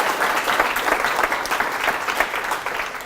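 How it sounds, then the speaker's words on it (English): Steady round of applause from an audience at an evening talk with a finance-turned-engineering director, dense continuous clapping holding at an even level throughout, no voices on top. "If we could get a little bit of a round of applause"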